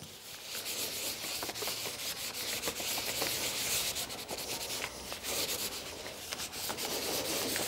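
A wad of tow rubbed back and forth over an inked relief print makes a steady, scratchy swishing with quick repeated strokes, close and continuous with no voices.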